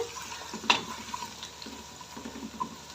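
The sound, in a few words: garlic ginger paste sautéing in a pot for pulao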